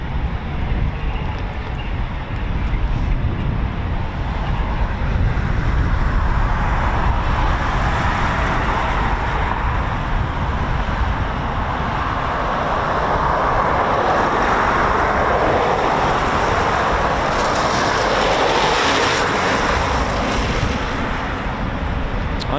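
A Eurofighter Typhoon FGR4 jet taxis out at RAF Coningsby, its engines giving a steady, broad rumble and roar that holds level across the whole stretch, mixed with some outdoor wind noise and no talk.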